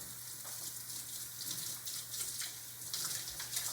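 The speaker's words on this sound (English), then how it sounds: "let's put them back into the water and wash all that soap off" Soapy hands are rinsed under running tap water. The stream flows in a steady, moderately quiet rush, broken by small splashes as the hands move, with no talking.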